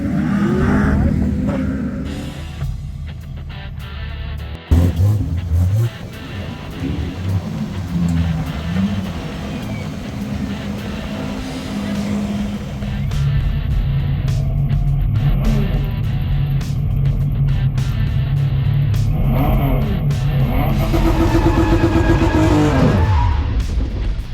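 A drift car's engine revs hard with the gas pedal floored, throaty roars rising and falling close by, with a sharp jolt near the start and sustained loud revving through the rest.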